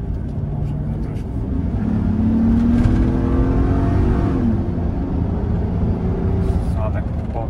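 A 2004 Chevrolet Suburban 1500 Z71 with a 5.3 V8 accelerates on a highway at about three-quarter throttle, its engine note rising then easing under steady road and wind noise.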